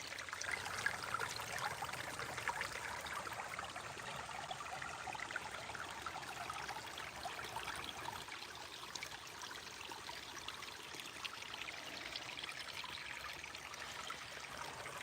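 Water trickles over rocks in a small stream, a soft, steady babble that holds low and continuous throughout with no voices.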